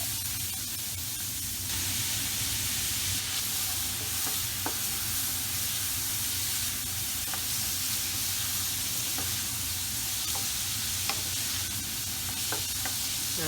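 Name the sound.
diced brown onion frying in vegetable oil in a pot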